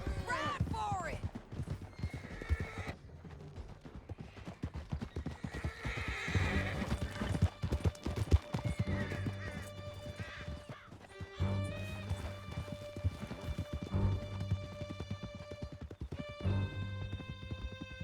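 Horses gallop in Red Dead Redemption 2 during a canyon escape, with loud rhythmic hoofbeats, repeated neighs and whinnies, and music and a few shouted lines over the clatter.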